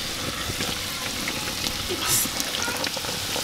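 Food frying in a pan for a village breakfast in Gilgit-Baltistan, a steady close sizzle and crackle throughout with a brief louder flare near the middle.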